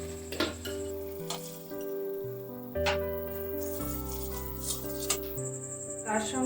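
Coconut milk goes into spice masala frying in a pan for stuffed pomfret, bringing soft sizzling and a few utensil clinks beneath continuous background music.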